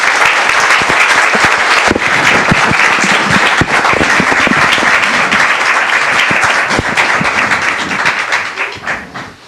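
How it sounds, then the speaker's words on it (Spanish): Loud, close applause fills a hall at a psychology and humanities colloquium in Lagos de Moreno, Mexico: many hands clapping densely and continuously before thinning out and fading in the final seconds. "al doctor Lozada Goya, les pido que me ayuden a dar la bienvenida con un fuerte aplauso"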